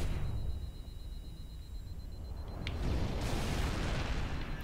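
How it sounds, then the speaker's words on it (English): A grenade goes off in Halo Reach as a broad, rumbling explosion that swells and lingers, with a louder surge late on and no talk over it. "Why am I throwing a grenade?"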